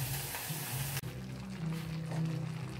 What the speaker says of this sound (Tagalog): na-mix na natin yung